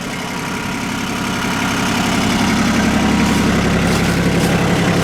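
Logging vehicle engine idling in neutral with the emergency brake set, a loud, steady low rumble that swells slightly and holds, close by and with no talking.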